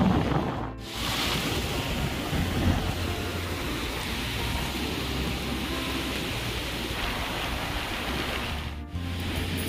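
Sea waves breaking on the beach at Mandarmani, a broad continuous roar of surf with wind buffeting the microphone, loud and steady, with no voices.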